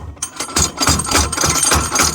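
Repeated sharp knocks struck in a fast, uneven rhythm, loud and close, like metal banged against a part: a makeshift hammer knocking a foot off a travel trailer.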